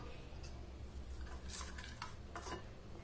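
Egg and onion batter for a masala omelet gets mixed in a bowl, soft scraping and light clinks of a spoon against the dish, faint and close, with no talking.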